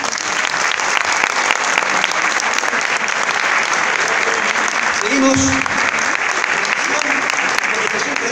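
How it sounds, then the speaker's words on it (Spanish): Sustained applause from an audience at a carnival awards ceremony, dense clapping throughout with a brief voice cutting through near the middle. "Un cerrado aplauso"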